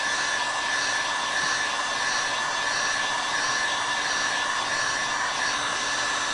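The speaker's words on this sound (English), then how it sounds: "I'm going to get my heat gun right here, and it dries just like chalk paint." A heat gun blows a steady, loud, even whooshing roar throughout while drying chalk paint, with no talking.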